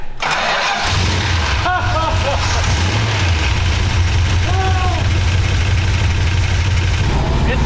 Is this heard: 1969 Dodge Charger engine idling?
yes